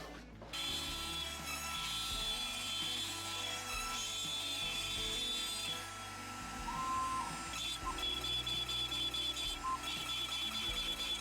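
A machine cuts out a guitar body plate in a workshop, a steady loud whine of the cutter running almost continuously with small shifts in pitch and brief pauses.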